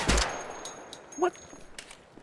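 Gunfire in a video game: a loud burst of shots at the start, followed by scattered fainter reports and clicks, with no talking.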